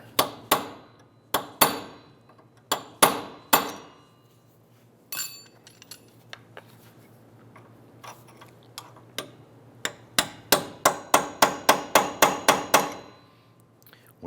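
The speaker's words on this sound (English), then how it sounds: "We want to go ahead and use our punch, and we're going to open that up a little bit." Hammer striking a punch to open the staked dimple on the rear axle nut of a 2009-2015 Honda Pilot, sharp metallic taps in irregular clusters, then a fast steady run of about a dozen blows near the end, close and clear.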